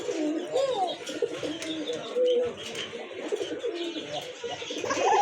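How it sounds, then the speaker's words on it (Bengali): Pigeons in a breeder's collection cooing repeatedly, soft throaty rolling calls overlapping one another at close range, with murmuring voices and light background noise. "খুবই ভালো মানের এক জোড়া কবুতর"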